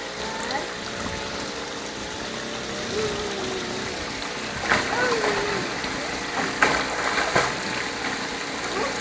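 A small child paddles in a swimming pool, and the water splashes and laps softly and steadily. Several light slaps come in quick succession toward the end, with some background voices.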